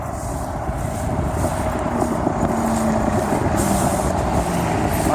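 Trucks rumble past at a small, busy truck stop in a steady, loud, broadband roar, with a faint tonal whine drifting through.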